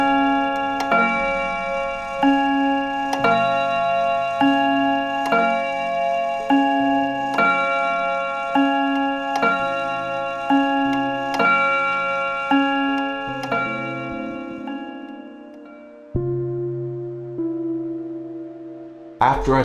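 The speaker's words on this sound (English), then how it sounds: "it strikes on 3 chime rods, and it's the 2-note bim bam chime that's found on almost every clock from this time period" 1940s German Art Deco mantel clock strikes a two-note bim-bam chime on three chime rods, ringing repeatedly in an even rhythm with long resonant tones, close and clear, ending with a final struck note.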